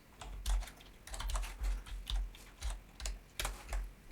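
Typing on a computer keyboard, quick irregular clusters of crisp key clicks and thumps, close and fairly quiet, with pauses between bursts and no talk.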